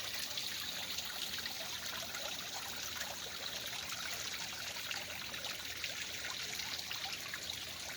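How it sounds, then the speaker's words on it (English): Garden fountains beside goat and turtle pens give a soft, steady trickle of falling water, continuous and fairly faint, with no talking. "I love the sound of the fountains."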